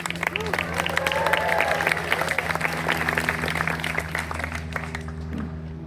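A commencement audience at a Stanford statistics and data science ceremony applauds loudly and continuously, a dense wash of clapping with crowd murmur that tapers slightly toward the end.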